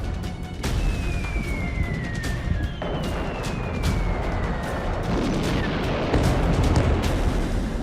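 Bomb explosions in news footage: a continuous roar of blasts and rumbling with sharp impacts, loud and dense throughout, with a falling whistle-like tone in the middle.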